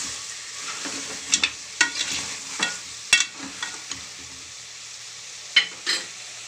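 Mutton curry with fenugreek leaves cooking in a pan, a soft steady sizzle under a series of sharp spatula scrapes and clinks in irregular bursts, close and without speech.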